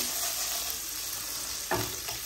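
Chicken frying in a pan on one side as it is stirred, giving a steady, even sizzle throughout with a brief scraping stir near the end.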